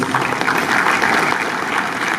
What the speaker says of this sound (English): please a warm round of applause for yourselves